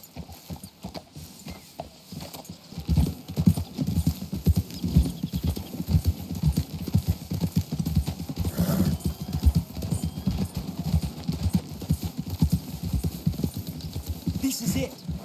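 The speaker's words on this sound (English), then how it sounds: "We should leave the horses." Horses gallop in Red Dead Redemption 2, a fast continuous drumming of hooves that stays close and loud throughout, with a brief voice and faint game ambience over the riding.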